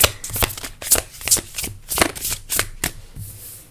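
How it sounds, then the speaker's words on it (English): Tarot cards shuffled by hand in quick, crisp riffling bursts, about a dozen rhythmic flutters close up, with little else in the background. "let's keep shuffling. Every day I'm shuffling."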